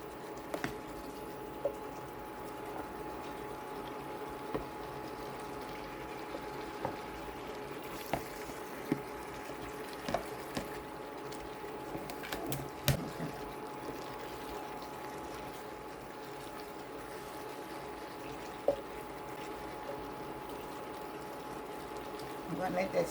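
Sausage and vegetables simmering in half a cup of beef broth in a skillet, a soft continuous bubbling hiss with scattered pops and clinks from stirring, while a person talks over it.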